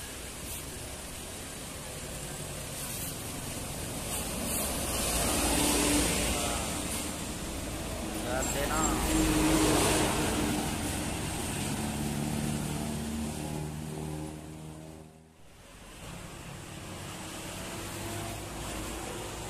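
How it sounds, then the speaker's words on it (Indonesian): Tour buses in a convoy approaching from a distance on a road near Gunung Sembung, a broad rumbling roar that swells and fades, with low engine drone and a brief dip before building again. "Dari kejauhan ada bus apa ini?"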